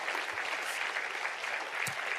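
A church congregation applauds together, a steady wash of many hands clapping at moderate distance, fairly soft overall with a few sharper claps standing out.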